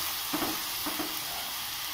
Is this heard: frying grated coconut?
yes